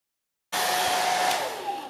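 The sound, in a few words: hair dryer blow drying a puppy after a bath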